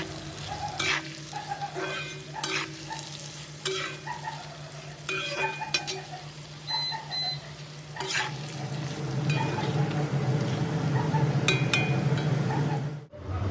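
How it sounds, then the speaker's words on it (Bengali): Potato pieces fry with chopped onion in a pan, with a steady sizzle under frequent spatula scrapes and metallic clinks that thicken into a louder, continuous crackle in the second half. Nobody speaks. "পেঁয়াজ কুচি সহযোগে আলুর টুকরোগুলো ভালোভাবে নেড়ে চেড়ে এবার মিনিট দুয়েক সময় ধরে"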